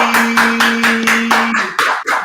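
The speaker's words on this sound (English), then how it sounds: "Let's clap it up, baby." Hands clap in a steady rhythm, loud and close, about seven claps against a sustained tone, ending in a looser scatter of claps.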